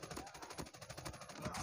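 Rapid automatic gunfire in the mobile shooter game Call of Duty Mobile, a dense burst of repeated shots rattling continuously for the whole stretch, loud and close with no voices over it.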